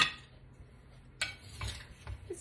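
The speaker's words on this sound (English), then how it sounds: "tossing them gets it kind of evenly coated" Apple slices tossed with dry ingredients in a bowl, heard as soft, scattered clinks and taps with a brief rustling shuffle, quiet and close, with no talking.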